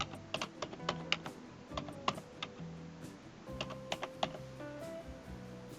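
Typing an IP address on a computer keyboard while adding a device in VGuard CMS camera-monitoring software: a steady run of close, crisp key clicks in irregular bursts, with no talk.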